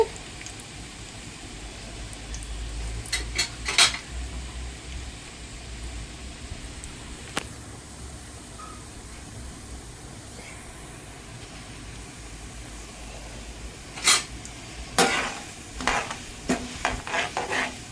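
Mixed lentils, including toor dal and chana dal, are dry-roasted in a pan for rice rava upma. A quiet, steady background has a few bursts of scraping stirs at the start and a cluster of rattling stirs toward the end, with no speech.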